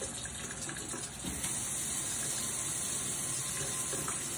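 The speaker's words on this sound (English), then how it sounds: "when you turn this cold water on" Cold water runs steadily from a household tap, a continuous hissing gush that holds at an even level throughout.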